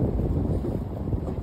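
Strong wind gusting straight into the microphone, a loud, steady low roar that buffets throughout, with no voices.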